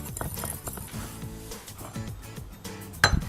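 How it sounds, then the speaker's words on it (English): A whisk clinks rhythmically against a bowl while mixing sugar, pumpkin pie spice, cinnamon and salt, a steady close tapping that ends with a sharper knock. "Give that a good whisk and then set that aside"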